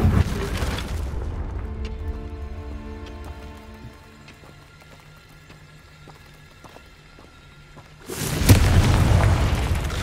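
A Confringo blasting spell in Hogwarts Legacy goes off with a loud, broad burst, then fades into a quieter ringing tail before a second heavy rumbling blast rises near the end.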